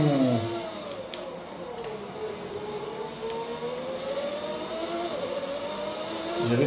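Game-rendered engine of Ayrton Senna's 1991 McLaren racing at the Austrian Grand Prix, a loud continuous whine with pitch sweeping down then climbing through gear changes, with other cars faintly present.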